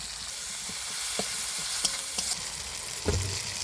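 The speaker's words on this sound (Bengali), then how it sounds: "এবার ভালো করে নাড়িয়ে নেব" Spices for a Shilamuri fish curry sizzle steadily in a pan while a spoon stirs them, with scattered scraping knocks against the pan over about four seconds and no voice.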